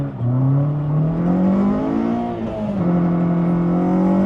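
A K24-swapped Honda CR-Z accelerates hard with wheel spin, its engine note climbing steadily in pitch, dipping briefly as it shifts, then rising again, loud and close with no talking.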